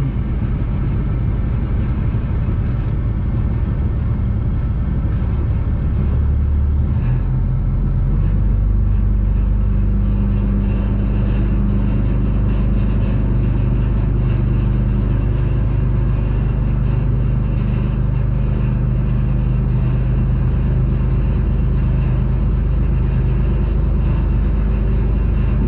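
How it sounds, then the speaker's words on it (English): A bulldozer engine runs steadily while pushing dirt, a loud, continuous low rumble with a shift in pitch early on as the load changes, heard close up with no talk. "Michael, push it the rest of the way with the dozer"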